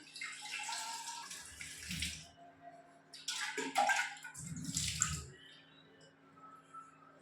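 A tea thermos flask is rinsed in water, giving bursts of splashing and sloshing that come and go in two or three rounds, close by and with no voices.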